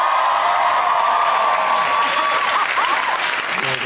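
Loud, sustained cheering and applause from a studio audience at a television show, a dense roar of clapping and whoops with a rising shout near the end.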